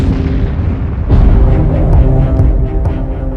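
A supernova explosion sound effect: a deep, rumbling boom that swells and rolls on as a continuous low roar, loud and alone.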